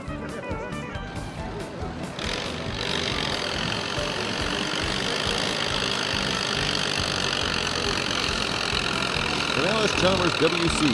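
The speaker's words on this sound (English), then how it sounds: "It features a 30 horsepower 4-cylinder Ford gas engine that powers this tractor to a" An antique tractor with a 30 hp four-cylinder Ford gas engine revs and runs steadily at a county fair tractor pull, a loud continuous engine roar that builds slightly over the clip.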